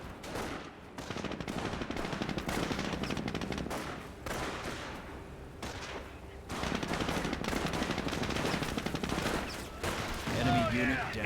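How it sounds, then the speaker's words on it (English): Rapid machine-gun bursts from a jeep-mounted gun in a Company of Heroes battle, loud and near, firing in repeated stretches amid scattered explosions, with a voice talking over the action. "Jeep's constantly firing away against them."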